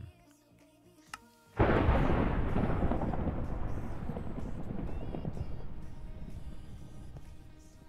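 A Minecraft thunderstorm: after a brief quiet, a sudden loud thunder crack breaks into a long rumbling roll that slowly fades over several seconds.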